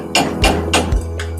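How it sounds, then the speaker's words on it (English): A hammer strikes a ceramic sleeve on a freshly butt-welded copper rod, three sharp cracking blows in quick succession followed by a fainter fourth, close and loud. "Now we'll smash the ceramic sleeve"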